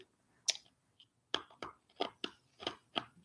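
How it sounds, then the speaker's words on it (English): Ice cubes are crunched between the teeth, a series of about eight sharp, close, irregular crunches with brief pauses between bites. "Crunch ice."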